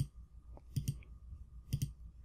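A computer mouse clicks in quick double pairs, soft and close, twice in a row while paging down through a photo album layout in Photoshop, with a faint steady hum underneath.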